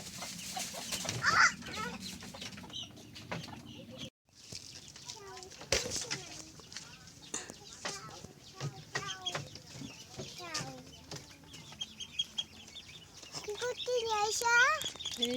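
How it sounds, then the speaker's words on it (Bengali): Ducklings and chickens on a home poultry yard peep and cluck close by in repeated short calls, while people talk over and between the bird sounds. "এই যে আমার হাঁসের বাচ্চা উঠাচ্ছে।"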